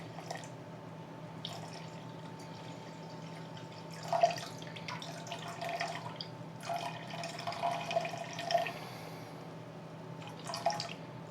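Water being poured into a pan for making candied orange peel syrup, faint trickling and dripping splashes in short bursts against a quiet kitchen background.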